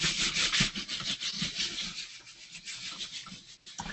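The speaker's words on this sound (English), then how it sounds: "I just lay one on top of the other and rub it together" Two inked sheets laid one on top of the other and rubbed together by hand, giving a close, steady papery scrubbing in rhythmic back-and-forth strokes that ease off and grow quieter partway through.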